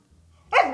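A single sharp dog bark bursts out after a near-silent pause, close and loud, then trails off briefly.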